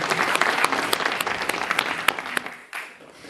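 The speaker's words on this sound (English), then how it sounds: "let's have another round of applause for our really wonderful lightning speakers" Audience applause following lightning talks at a panel event on agrifood net zero emissions, a dense burst of many hands clapping that thins and fades toward the end.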